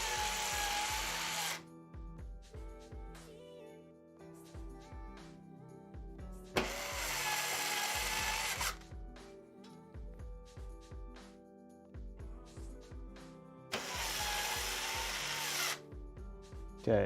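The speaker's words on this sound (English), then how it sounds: "Just put our last screws in now." Power screwdriver driving the last screws into a Corsair 4000X RGB PC case: three loud whirring bursts a few seconds apart, with quieter clicks and taps between them.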